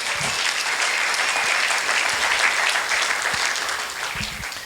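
A church congregation claps together in a full, sustained round of applause that fades slightly toward the end, with no speech over it.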